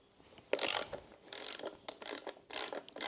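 A hand ratchet clicks in four short, close bursts as bolts are loosened on the headlight bracket of a Royal Enfield 650 motorcycle, with pauses between the bursts.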